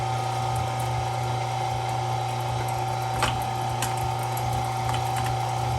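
Electric meat grinder stuffing sausage made from brisket trimmings, a steady motor hum and whine with faint intermittent clicks and squelches, heard alone without talk.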